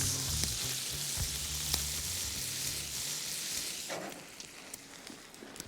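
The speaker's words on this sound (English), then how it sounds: "So the lardons go in." Steady, loud sizzling of meat frying in a hot pan, with occasional soft clinks and crackles, and no talking.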